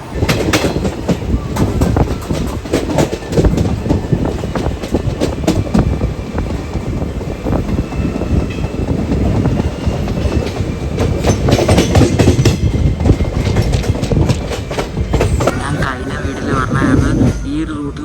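A passenger train runs on rails between Thrissur and Walayar in Kerala, giving a continuous loud rumble with rhythmic clickety-clack wheel clatter and rushing wind noise throughout.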